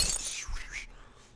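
Glass shatters in the Happy Wheels video game, a bright burst of breaking glass with a low thump beneath it, close and loud, fading out within about a second.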